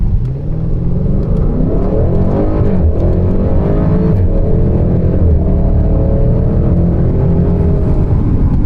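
A tuned 2021 Audi RS6 Avant wagon with an upgraded intake, its engine revving hard under throttle, a loud, continuous close-up roar that rises and holds in pitch throughout.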